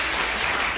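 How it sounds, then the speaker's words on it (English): Studio audience applauding during a panel game show taping, a steady dense wash of clapping throughout, loud and close with no talk over it. "The audience enjoy it so much when you make mistakes, they clap every one of them."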